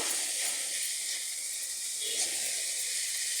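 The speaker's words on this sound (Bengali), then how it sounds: "খুব সুন্দরভাবে মশলাটা কষে নেব" Spice paste with ginger-garlic paste sautéing in a pan, a steady bright close-up sizzle and hiss continuing throughout with no talk.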